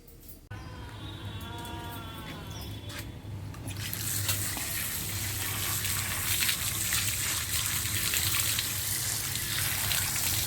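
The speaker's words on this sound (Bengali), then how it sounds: "বর্ষাকালে ভীষণ পিছল কচু শাকটা ধুয়ে নিলাম" Tap water running while slippery taro leaves (kochu shak) are washed, a steady splashing gush that grows louder and fuller after a few seconds, with faint background sounds at the start.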